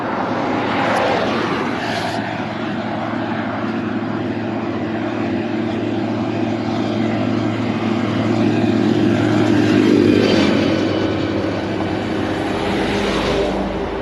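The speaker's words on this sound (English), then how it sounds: "this tractor is slowing down traffic" A loud, steady tractor engine drone that swells and fades slightly as it passes close by on a road, with no one speaking.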